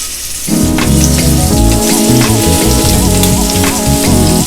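Shrimp hit hot canola oil in a pan, and after a brief quiet start a loud, steady sizzle crackles on, under prominent background music.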